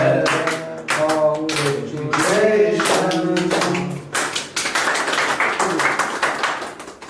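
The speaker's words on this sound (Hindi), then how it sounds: "तालियां बधाई हो गया" Applause after a cake is cut at a small celebration, a burst of hand clapping from a few people close by, mixed with voices talking and cheering over it.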